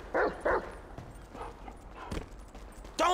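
A dog barking in Grand Theft Auto 5 gameplay, several loud, close barks and yips in irregular bursts with quieter background noise between them.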